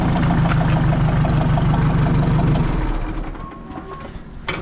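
A 1970 Ford F350 service truck idles with a loud, steady, close mechanical rumble that eases off and fades into quieter background noise after about three seconds.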